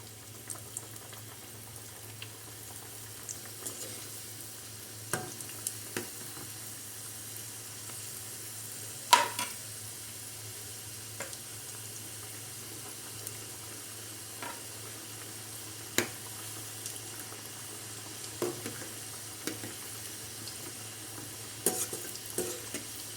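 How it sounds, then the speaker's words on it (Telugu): Palak paneer samosas deep-frying in hot oil, a low steady bubbling sizzle broken by occasional sharp pops and utensil clicks, fairly quiet throughout. "ఇప్పుడు మనం చేసుకున్న సమోసాలు ఉన్నాయి కదా, అవి ఒక్కొక్కటి ఇందులో వేసుకొని ఫ్రై చేసుకుందాం"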